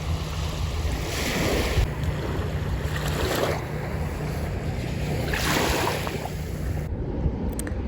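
Lake waves wash steadily onto a shore and rush around feet, a continuous broad surf roar swelling in slow surges, with wind buffeting close to the microphone.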